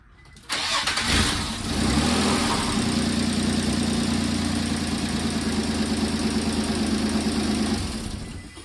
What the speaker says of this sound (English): he's gonna turn it on for a few seconds